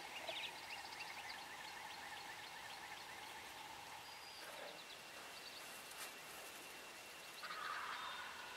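A flock of wild turkeys, bearded gobblers among them, sound off with faint, distant gobbling that recurs across the stretch amid quiet outdoor ambience.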